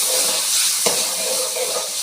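Tomato sauce and vinegar going into a hot pan for oil-free chilli chicken, a continuous sizzling hiss with a brief sharp clatter of a utensil partway through.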